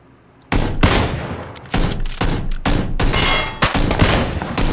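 Loud, close bursts of gunfire in PUBG (Battlegrounds), with several rapid volleys and sharp single shots packed together after a brief quiet start.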